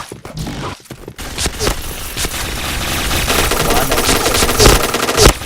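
Rapid automatic gunfire bursts in a tactical shooter match with bomb plant and defuse rounds, loud and close, dense overlapping shots with brief pauses, under a faint voice.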